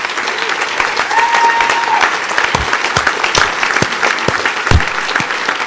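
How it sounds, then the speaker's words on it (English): A large crowd at a hacker conference closing ceremony claps loudly and continuously, with dense applause, a few sharp louder claps and faint cheering mixed in. "Applaud yourselves."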